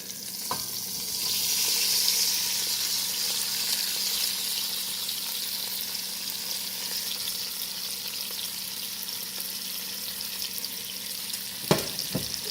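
Ackee tipped into a hot pot for a Jamaican ital dish, a steady close sizzle and frying hiss that swells early and then holds, with a sharp clack of a utensil near the end and no talking.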